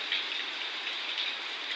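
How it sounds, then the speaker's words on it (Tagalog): Sudden heavy rain pours down in a continuous, even hiss of falling water, fairly soft in level, with no voices. "Biglang buhos lang po yung ulan."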